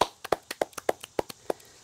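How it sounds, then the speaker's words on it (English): Scattered hand claps for junior linebacker Will Dix after his game-ending sack in a Holy Name vs Clyde varsity football game: about a dozen sharp, separate claps at an uneven pace, fairly close and without talk. "So definitely a quick round of applause for Will."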